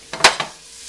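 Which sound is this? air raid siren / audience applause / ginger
ginger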